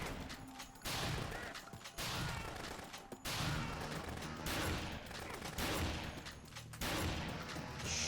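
Rapid bursts of gunfire in the Dead Rising video game, loud dense volleys repeating in several clusters with short gaps, shots crackling and booming like sustained automatic fire.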